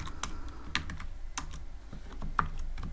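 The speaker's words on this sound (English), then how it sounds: "I'm gonna type guess equals to input" Quick, irregular clacking of computer keyboard keys as Python code for a quiz app is typed, sharp close keystrokes in bursts over a low background hum, with no talking.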